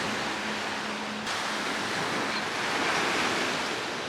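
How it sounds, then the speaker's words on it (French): Ocean waves rolling onto a beach in Greece, a steady broadband wash of surf with a continuous roar and no talk. "j'écoute le bruit des vagues"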